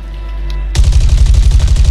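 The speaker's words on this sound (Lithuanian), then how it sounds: "Šaudo." In Call of Duty Warzone on Rebirth Island, rapid automatic gunfire suddenly erupts after a low rumble, a loud stream of closely spaced shots that pulses steadily until the end.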